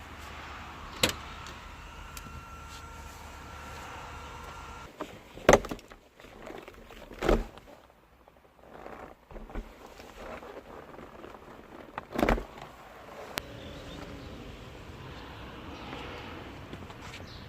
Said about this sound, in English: It's a Targa version, so let's put on my gloves and take off the roof.